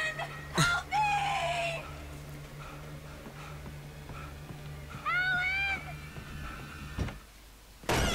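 Birds shrieking and cawing during an attack in the video game Alan Wake, with sharp repeated calls in two bursts over a steady low hum and game ambience.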